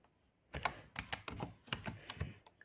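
Fingers tap out a brief burst of typing on a computer keyboard, a quick run of about a dozen close, fairly quiet clicks with no voice.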